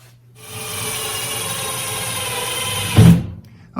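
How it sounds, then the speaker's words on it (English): A power drill bores into drywall to set easy anchors for a picture light, a steady close whirring grind that holds for a few seconds and ends in a brief louder burst as the bit breaks through. "ready to drill"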